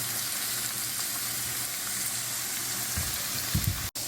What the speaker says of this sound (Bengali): এই পেঁয়াজটাকে এক মিনিট মতো রসুনের সাথে ভেজে নেব